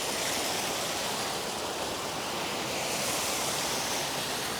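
Water rushes steadily through an inlet channel into a fast-flowing fish pond stocked with tilapia and pomfret, a dense, even roar that stays close and constant throughout with no breaks.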